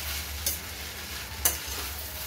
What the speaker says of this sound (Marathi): आपण आता याच्यामध्ये कोथिंबीर घालून मिक्स करून घेऊया